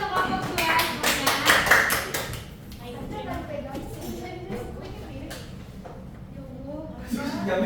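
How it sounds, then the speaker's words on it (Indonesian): Classroom clapping in a microteaching session for a student group, a burst of many hands in the first two seconds that thins out, with voices talking afterward. "Tepuk tangan untuk kelompok 2 semuanya."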